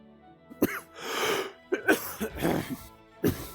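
A person coughs and clears their throat in several short, harsh bursts spread over a few seconds, close to the microphone, with no talking.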